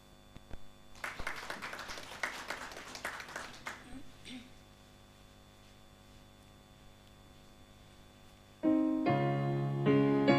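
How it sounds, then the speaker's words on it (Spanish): A congregation at an evangelical prayer service claps for about three seconds, a brief burst over a steady electrical hum, and the clapping fades into quiet hum before loud amplified music starts. "Vamos a dar fuertes aplausos"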